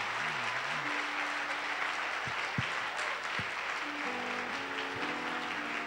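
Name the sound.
congregation applauding the Lord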